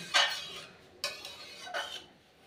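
Three separate scraping strokes of a spoon stirring rohu fish curry with potatoes and drumsticks in a pan, soft and close, with quiet pauses between them and no talking.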